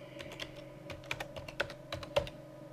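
Typing a Linux terminal command on a computer keyboard, a quiet close series of irregular key clicks with a few sharper taps.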